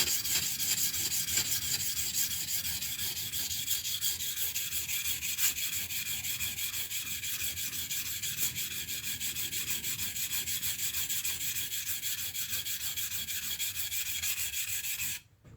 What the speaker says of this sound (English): If you want to kill some material, grind some material, it's really faster.